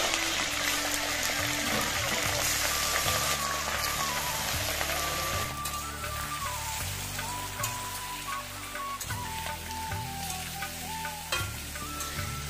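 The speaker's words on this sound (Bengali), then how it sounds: "মশলাগুলো একটু ভেজে নিয়েই ধুয়ে পরিষ্কার করে রাখা চিকেনগুলো দিয়ে দিচ্ছি।" Chicken pieces are added to hot oil with whole spices such as cinnamon, cardamom and cumin for a dhaba-style chicken curry, giving a loud, close, continuous sizzle with scraping stirs throughout.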